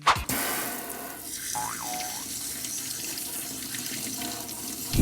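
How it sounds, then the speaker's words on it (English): Tap water runs from a faucet into a sink to wash snow off a LEGO minifigure, a steady hissing splash close by that starts abruptly after a brief clunk. "let's go wash the snow off of him"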